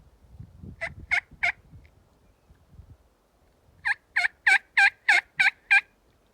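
A wild turkey gobbles in two runs of rapid, echoing calls, first three then a longer series, heard clearly across a quiet riverside setting in the evening.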